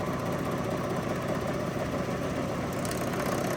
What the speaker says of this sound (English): So over at the serger, I'm just going to ease it on and start sewing.